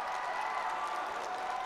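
Arena crowd cheering and clapping after a men's 73 kg judo final win, a continuous, fairly distant and subdued roar of mixed voices and applause with no pauses.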